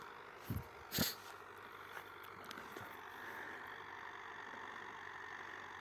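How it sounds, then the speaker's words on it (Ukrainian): A YUMZ four-wheel-drive turbo tractor engine idles in a rural garden plot, a faint, steady low rumble running throughout, with a couple of sharp knocks near the start. "Так, працює юмс повнопривідний з турбіну."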